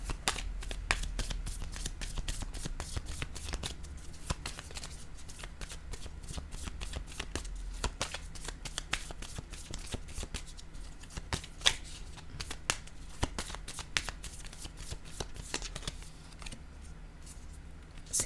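A deck of cards is shuffled repeatedly, giving rapid crisp riffling flutters and snaps at close range, fairly quiet and steady.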